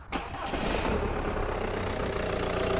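A 2-litre diesel Audi A4 engine, which has a misfire and cutting-out fault, cranks and catches, then settles into a steady rumbling idle, heard up close with some wind noise.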